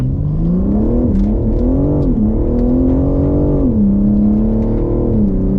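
A BMW M3 pulls away on the Goodwood track, its engine note loud and close, rising and falling through revs in smooth sweeps with a steady droning roar throughout and no talking.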